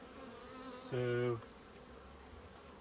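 Bees swarm around a hive, a brief loud close buzz as one flies past, with fainter humming before and after and a short spoken word.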